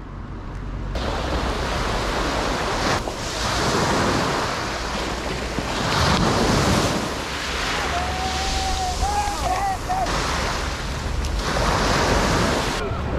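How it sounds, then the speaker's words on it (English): Waves wash steadily onto a small beach of sand and small pebbles with clear blue water, a continuous loud surf roar with wind buffeting the microphone. "That's a nice little beach here."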